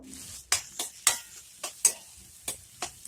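Spiny gourd (kantola) fries with onion in a pan, a soft continuous sizzle broken by about seven sharp stirring scrapes at uneven intervals, close and clear with no talk.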